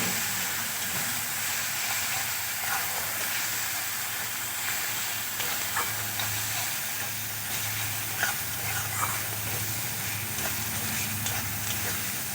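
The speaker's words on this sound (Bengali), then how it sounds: "আর দেব লঙ্কার গুঁড়ো। একসাথে মিশিয়ে এনে ভালো করে কষিয়ে নেব।" Turmeric and chili powder stir-fried with tomatoes in a pan for a Bengali mustard fish curry, giving a steady close sizzle and hiss with occasional scraping stirs throughout.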